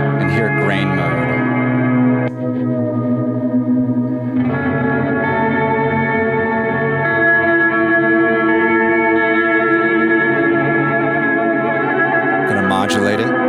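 A sustained, shimmering synthesizer tone is run through an audio effects unit in grain mode, giving a dense, layered sound with chorus-like wavering and echo tails. It plays loud and close with brief changes in texture.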